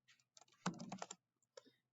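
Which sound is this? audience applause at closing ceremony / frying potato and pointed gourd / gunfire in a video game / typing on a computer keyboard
typing on a computer keyboard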